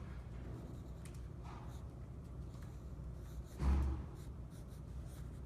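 Quiet scratching of a pen drawing on paper, light and continuous, with a brief soft rustle or breath partway through.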